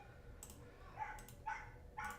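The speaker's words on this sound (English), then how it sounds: "the dogs are barking outside" Dogs barking outside, several loud bursts spaced across the stretch over steady background noise, with no speech.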